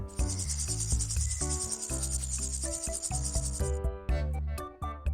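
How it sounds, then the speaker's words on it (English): A grasshopper's chirping forms a continuous, dense high trill over layered background music, running steadily for most of the stretch before cutting off near the end. "grasshopper,"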